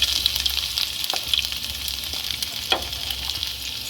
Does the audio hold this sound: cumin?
yes